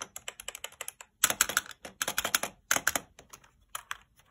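Fingers type on a Thermaltake computer keyboard with white switches, a close run of crisp rapid clicks in uneven bursts with brief pauses between flurries.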